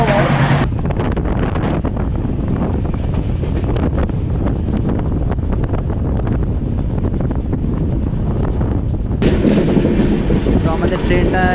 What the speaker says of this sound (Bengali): তো আমাদের ট্রেনটা এখন একটা টানেলের ভিতর থেকে যাচ্ছে।